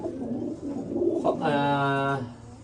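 A pair of silver master pigeons coo close by, a soft low rumble that swells into one clear throaty coo before fading.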